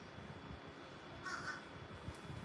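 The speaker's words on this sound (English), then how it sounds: "There's a crow there." Crow caws out in the open, a short pair of harsh calls at middle distance over steady background noise, with no talking.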